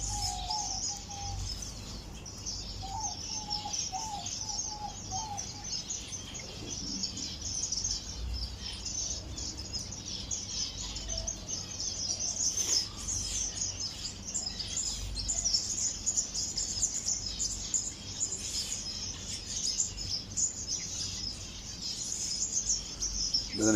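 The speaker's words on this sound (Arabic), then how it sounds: "ابقوا ويانا نشوف الطيور شلون راح تاكل هذا الطبق." Birds calling inside a nature reserve while they feed, a steady layer of chirps, tweets and cooing with insects buzzing behind, continuous and moderately close without any voices.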